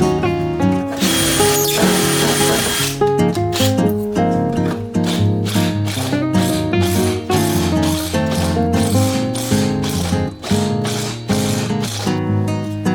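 A power drill with a sharp bit boring through a hole in a 1974 VW Kombi, loud and close, whining steadily at first, then pulsing in rapid repeated bursts as the trigger is feathered.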